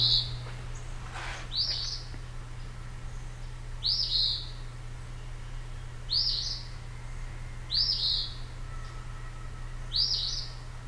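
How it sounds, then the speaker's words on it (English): Eastern phoebe repeating its two-note song five times at steady intervals of about two seconds, each phrase bright and clear over a constant low electrical hum. "It says Phoebe, Phoebe, so I'm going to let you listen to that"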